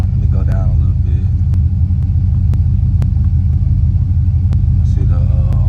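A Buick Regal engine with Holley EFI idles around 700 RPM after a cold start, a steady low rumble throughout with faint clicks and someone talking over it at times.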